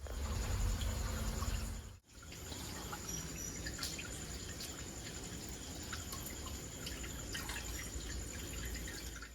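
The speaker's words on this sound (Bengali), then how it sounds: "আমি জলটা এভাবে টিপে টিপে আমি বার করে দেবো" Grated raw mango is squeezed by hand over a bowl, so water trickles and drips in a soft, steady patter close by, after a brief pause near the start, with no one speaking.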